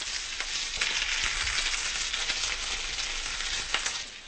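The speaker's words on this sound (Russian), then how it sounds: "Когда сковорода нагреется, положите в нее кусочки филе кожицей вниз." Pieces of chicken fillet fry skin-side down in a hot, generously oiled pan, a steady loud sizzle with a few brief crackling bursts, heard alone without any talk.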